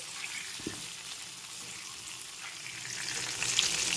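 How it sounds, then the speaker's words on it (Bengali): Pointed gourd (potol) pieces frying in a pan, a faint steady hiss of sizzling oil with one brief low knock early on, soft and close, growing slightly louder toward the end, no speech. "এখন পটলের টুকরোগুলোকে ভেজে নিতে হবে"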